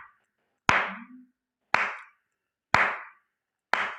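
Four sharp, evenly spaced hand claps marking the tali beats of a rhythm, each crisp and close, separated by silence.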